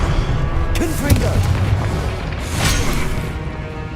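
Explosive Confringo spell in Hogwarts Legacy, two heavy booming blasts a couple of seconds apart with crashing, rumbling debris between them, while a voice talks over the action.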